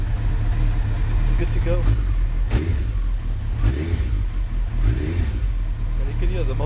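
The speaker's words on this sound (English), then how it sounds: "And you can hear the motor sounding a hell of a lot better." Suzuki Hayabusa motorcycle engine idling just over 1,000 RPM after a cold start on fresh spark plugs, a loud, close, steady low rumble with a few small throttle swells while someone talks over it.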